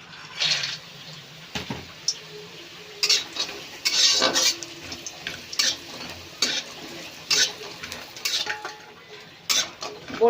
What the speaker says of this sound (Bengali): যে বড়িটা নিয়েছিলাম ওই বড়িটা ভেজে নেব।